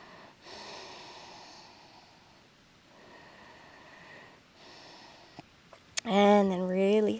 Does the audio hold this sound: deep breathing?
yes